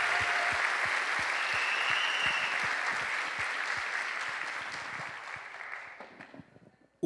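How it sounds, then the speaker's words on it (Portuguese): Dense audience applause on a talk show set, a broad steady roar of clapping that gradually thins and fades away over several seconds. "Uma salva de palmas por enquanto"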